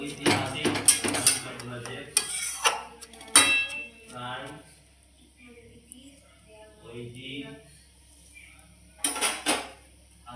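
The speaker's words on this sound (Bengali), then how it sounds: "এই যখন শাকটা নেড়ে চেড়ে ঢাকা দিয়ে দেবো, সিদ্ধ হবে ভালো করে।" Drumstick leaf greens stirred in a cooking pot in a home kitchen, clattering metal scrapes and clinks in bursts with quieter gaps, someone talking between them.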